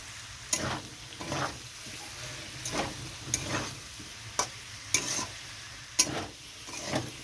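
Unfried paneer is stirred into simmering potatoes and vegetables in a frying pan. The spatula scrapes and taps in a regular rhythm over a low, constant sizzle.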